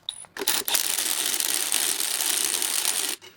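A cordless driver spins cylinder head bolts down hand-tight on a Jeep 4.0L engine, a steady high whir lasting about three seconds between short clicks, close and fairly loud.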